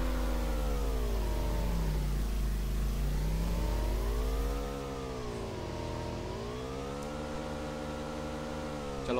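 Auto rickshaw engine in a mobile driving game, a steady droning motor whose pitch rises and falls in slow waves like repeated revving, loud and continuous with no talk.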